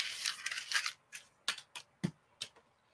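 A sheet of paper crumpled by hand, a close crinkling rush followed by several separate sharp crackles, fairly quiet and without talk.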